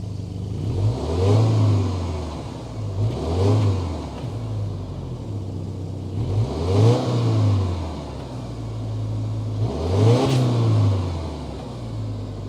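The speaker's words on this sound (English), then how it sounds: "start up this boxer engine so you can hear that exhaust note." A 2023 Subaru Outback Wilderness with a 2.4-liter turbocharged boxer four-cylinder revs four times in a row while idling, each blip rising and falling with a deep, loud exhaust note, with no talk over it.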